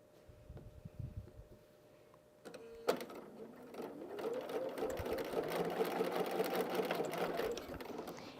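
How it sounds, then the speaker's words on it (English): Quiet handling noises, then a sewing machine starts up and runs steadily, piecing quilt blocks with a fast, even mechanical stitching rhythm, close by. "We'll be back at the sewing machine again."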